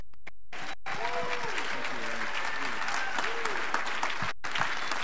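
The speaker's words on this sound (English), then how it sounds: "we all rise to our feet and clap for our guest today" At a graduation service, a standing audience claps loudly and continuously for a guest speaker, a dense, close wash of applause with voices calling out over it, briefly cut by gaps in the sound.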